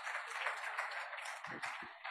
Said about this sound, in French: je pense que vous pouvez applaudir Thérèse